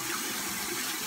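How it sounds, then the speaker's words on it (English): Water from a running tap pours in a continuous, close, fairly loud gush as soap is rinsed out of a makeup brush, with no talking over it. "Rinse the soap out really well."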